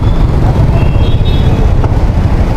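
Heavy road traffic in Naga City during a parade, with a loud, steady low rumble of engines close by and no clear pauses.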